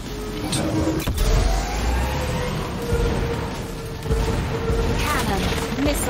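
Turbo boost kicking in on a Feisar anti-gravity racing craft in Wipeout, a sharp whoosh over the steady engine drone with a few brief impacts and a later swelling surge.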